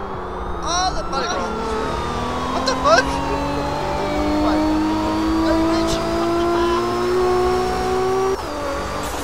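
A black Supra sports car in a police roleplay video game accelerates hard and speeds away, its engine rising in pitch over several seconds, loud and close, with a person talking over it.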